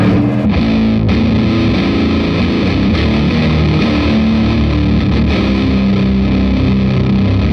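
Heavily distorted electric guitar chords through a high-gain overdrive pedal ring out loud and sustained, a thick, dark stoner-metal tone with no voices.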